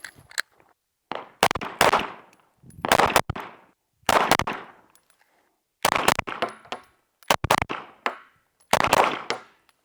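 Pairs of pistol shots from an Echelon 4.0 Comp handgun, six quick double-taps spaced evenly over about ten seconds, each pair sharp and loud with short ringing decay.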